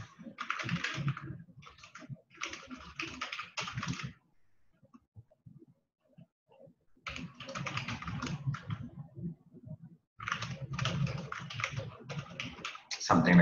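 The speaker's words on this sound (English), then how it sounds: "I'm just gonna type in" Someone types on a computer keyboard in two long bursts of rapid close key clicks, separated by a few seconds of near silence with isolated taps.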